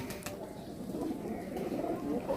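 A desi pigeon coos softly in low, throaty, rolling tones that run continuously over the short stretch, heard close by with faint background noise.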